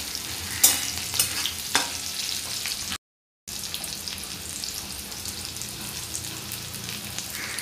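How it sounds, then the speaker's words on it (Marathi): Green chillies and garlic fry in a pan with a continuous close sizzle and a few sharp stirring clinks early on, broken by a brief silent cut midway. "लसूण जास्त लालसर होईपर्यंत भाजायचा नाही, परतून घेऊया।"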